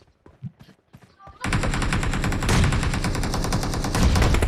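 Gunfire in the shooter game PUBG Mobile: a few scattered distant shots, then a loud sustained burst of rapid automatic fire that keeps going without pause, with no talk over it.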